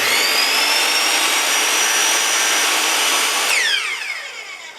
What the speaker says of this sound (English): take it over to my miter saw